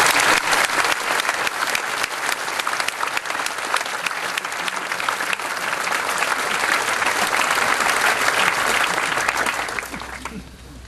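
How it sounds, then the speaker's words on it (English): A large audience at a school prizegiving and Commemoration Day breaks into loud, sustained applause, dense clapping filling the hall for about ten seconds before fading away. "why don't we just give him a round of applause?"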